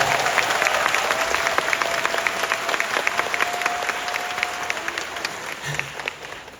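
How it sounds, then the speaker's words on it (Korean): Sustained theatre audience applause at the curtain call of the musical Notre-Dame de Paris in Yeosu, dense clapping that fills the space for several seconds before gradually thinning out. "박수 한 번만 부탁드릴게요."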